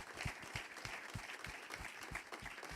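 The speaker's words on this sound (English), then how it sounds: "I think that deserves a round of applause." Faint applause rolls through a room, with a few louder, distinct claps standing out in a steady rhythm against the softer wash of the audience.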